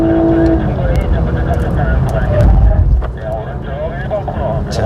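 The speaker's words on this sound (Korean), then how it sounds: "엔진 사운드 멋있지 않습니까?" A Lexus LC coupe's engine roars continuously on a race circuit, surging hard with a rising growl before easing slightly, close and dominant throughout.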